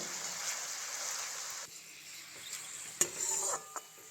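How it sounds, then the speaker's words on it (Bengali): Thin potato straws deep-frying in hot oil make a soft hiss that fades partway through, then return in a short burst with faint utensil clinks near the end; quiet, with no voices. "এবার আমি অল্প অল্প আলুর ঝুড়িগুলো দিয়ে ভেজে নেব এইভাবে অল্প অল্প আলু দেব আর এইভাবে বেশ মুচমুচে করে ভেজে নেব"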